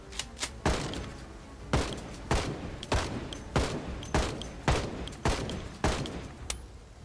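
Gunshots from the player's firearm in Project Zomboid: about eight sharp, loud reports fired at a steady, slightly uneven pace, each with a short booming tail, close and with no talking.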